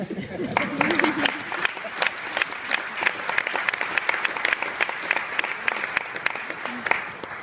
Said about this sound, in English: How about a round of applause for all of the parents